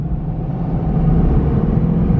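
Chevrolet Camaro SS 50th Anniversary engine rumbling deep and close from inside the car during a rev-matched downshift out of third gear, a continuous low drone that swells slightly, with no talking.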